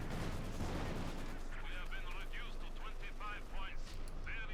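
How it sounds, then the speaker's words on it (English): Tank cannon fire from a Panther in Company of Heroes 2, with heavy booming shots and battle rumble crowding the opening seconds, then fainter game effects while a commentator talks throughout. "Panther shoots, gets a good hit."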